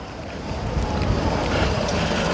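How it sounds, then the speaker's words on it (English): Strong outdoor wind buffeting the microphone at a street protest, a loud continuous low rumble with gusty swells that builds slightly toward the end, no voices heard. "it's proper windy"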